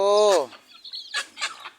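A chicken in a coop before feeding gives a short, loud squawk up close, followed by softer scattered clucks and rustling.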